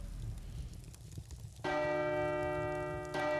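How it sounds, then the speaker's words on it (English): A church-style bell rings in the video game Shadows of Larth, entering loud and sustained after a quieter stretch, its ringing tone holding steady and then struck again near the end. "Ringing the bell?"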